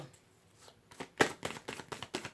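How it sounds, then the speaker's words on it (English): A thick deck of cards is shuffled up close, with a series of soft riffling bursts that grow more regular and rhythmic in the second half, quiet and with no talking. "I'm shuffling it a little bit more."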